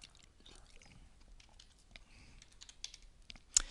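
A computer keyboard is typed on in a quiet room, with soft, irregular key clicks spread across the clip and one sharper tap near the end.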